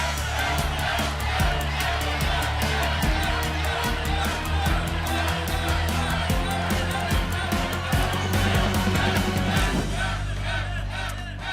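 Loud studio audience on a French TV game show cheers and whoops steadily throughout, a dense crowd roar with rhythmic clapping, easing slightly at the very end.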